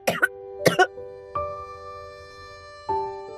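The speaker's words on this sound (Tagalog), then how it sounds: "umubo siya ng maraming dugo" Coughing in a narrated Filipino horror story comes as a few harsh, close bursts at the start, followed by soft, sustained tones with faint throat sounds.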